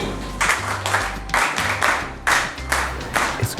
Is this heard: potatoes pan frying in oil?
no